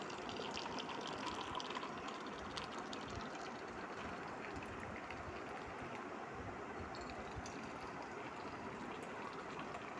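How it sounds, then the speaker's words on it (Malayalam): Butterfly pea flower tea is poured into a glass, a faint steady gushing stream of liquid that runs unbroken for about ten seconds, with no talk. "ഇനി ഇത് ഗ്ലാസ്സിലേക്ക് ഒഴിക്കാം."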